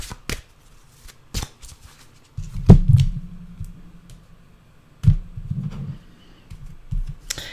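Tarot cards are shuffled and drawn by hand, with sharp riffling bursts and soft papery slaps and taps spread across several seconds, close and clear with no talking.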